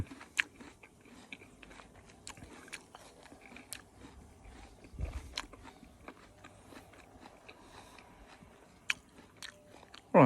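Crisp bites and crunchy chewing of a firm Israeli pear, close and fairly quiet, with irregular sharp crunches and one deeper bite midway; a brief louder sound at the very end.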